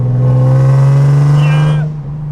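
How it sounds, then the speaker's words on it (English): A big-turbo Nissan 370Z engine holds a loud, close, steady high rev, then drops sharply as the throttle closes, with the tone falling away afterward. "Good pops. Good Brittany. Brittany, she's happy. This is a happy pops."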